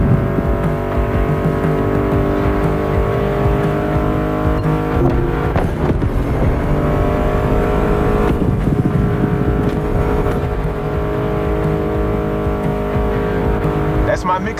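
Loud, steady roar of American muscle car engines revving and racing in The Crew Motorfest, with tire noise and a voice talking over the top.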